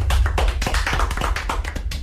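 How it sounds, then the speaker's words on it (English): A small group of people claps steadily and briskly for a couple of seconds, close and fairly loud, with no talking over it. "Claps for Bird."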